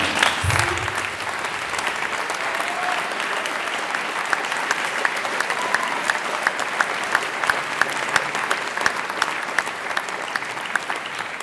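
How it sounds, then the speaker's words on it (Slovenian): Loud, sustained applause from a festival audience for the singers and conductors at a youth choir festival in Celje, dense steady clapping filling the hall throughout. "Pevci, en velik aplavz, občinstvo, en velik aplavz za njih"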